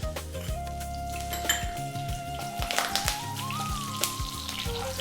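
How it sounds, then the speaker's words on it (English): Cumin seeds and curry leaves hitting hot oil in a pan over high heat for a lamb bhuna, giving a crackling sizzle with clinks of a utensil against the pan, close and steady throughout. "We're going to drop in the cumin seeds and the curry leaves, which sometimes can be quite noisy."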